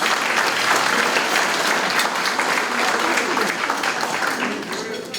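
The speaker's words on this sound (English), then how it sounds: "let's give Mr. Booker a round of applause" A gala audience gives a sustained round of applause, dense crowd clapping that fills the room loudly and then starts to taper toward the end.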